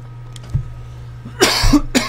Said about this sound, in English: Hope that coughing isn't too annoying.